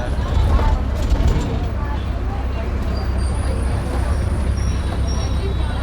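Aboard a TGSRTC Pallevelugu rural bus running from Warangal to Narsampet, a constant loud engine and road rumble fills the cabin, someone talks over it throughout, and a faint thin whine rises in the later seconds.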